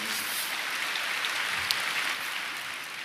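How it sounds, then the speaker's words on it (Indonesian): Applause from a church congregation during an Indonesian sermon, a steady dense wash of clapping held at an even level throughout, fairly distant and without talk over it. "Berikan tepuk tangan kita untuk Tuhan kita"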